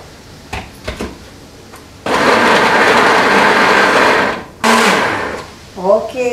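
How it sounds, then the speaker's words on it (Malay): A blender purees onions with a little water in two loud, whirring bursts, the first long and steady, the second shorter, with some knocking and handling noises before and after. "Dan semua jenis bawang kita pun akan blendkan halus-halus, ya."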